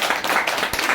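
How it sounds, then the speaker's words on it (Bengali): Brief burst of dense applause from an audience at a Rabindra Jayanti celebration, many hands clapping together at close range, loud and steady for about a second. "হাততালি"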